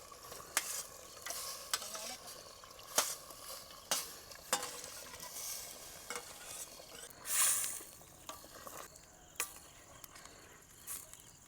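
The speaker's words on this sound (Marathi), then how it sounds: "आपण त्याच्यात फोडी टाकून घेऊ सगळ्या आता." Mutton pieces are stirred into a stone-ground masala in a pot over a wood-fired stove, giving steady scraping and clinking strokes over a soft sizzle, with a brief louder burst partway through and no talking.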